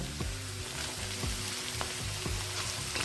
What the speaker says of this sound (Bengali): আর পনিরটাকে দিয়েও তিরিশ সেকেন্ড মতো নেড়ে নেব